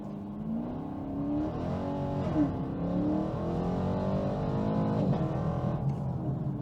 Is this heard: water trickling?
no